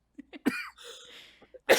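A person coughs in a few short, close bursts, with a louder harsh cough at the end, in a casual indoor podcast conversation.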